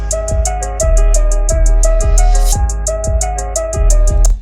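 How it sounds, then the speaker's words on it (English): Crisp hi-hats ticking in a steady pattern, some hits louder and some softer, sit over a looping beat with a deep sustained bass and a bright melodic line, loud and continuous with no vocals. "I added some hi-hats"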